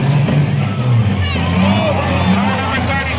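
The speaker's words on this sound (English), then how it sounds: "We got 4 cars moving and running under their own engine power." Demolition derby cars at a 2018 Monday night event in Wayne County, NY, their engines revving and rumbling loudly and continuously, with babble and voices over the racket.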